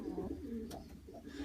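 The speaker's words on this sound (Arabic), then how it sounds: "ابو فاطمة، هاي طيورك وصلت بسلامة لسويسرا" Soft, low cooing of Iraqi pigeons repeats in a steady murmur, fairly close, with a faint rustle in the background.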